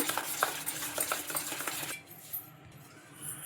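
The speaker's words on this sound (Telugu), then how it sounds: "ఇక్కడ ఉండలు లేకుండా బాగా కలుపుకోవాలి ఒక నిమిషం పాటు ఇలా" A spoon stirs semolina batter in a bowl to break up lumps, quick repeated scraping clinks close by for about two seconds, then quieter faint movement.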